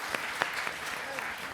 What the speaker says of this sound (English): Could you give them a big round of applause as they